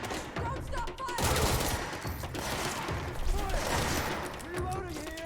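Rapid gunfire in the game Control, bursts of automatic shots rattling continuously with voices shouting over the din.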